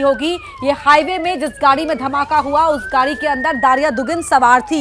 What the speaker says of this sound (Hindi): सायरन की आवाज आपको सुनाई दे रही